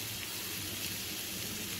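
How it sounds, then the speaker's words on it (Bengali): Capsicum and carrot frying in butter and white oil with a little salt over low to medium heat, giving a steady, even, close sizzle with no pauses and no voices. "ক্যাপসিকাম, গাজরটাকে ভালো করে বাটার আর সাদা তেল দিয়ে একটু নুন দিয়ে ভাজছি হালকা আঁচে"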